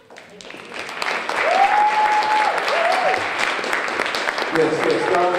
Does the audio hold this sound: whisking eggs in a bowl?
no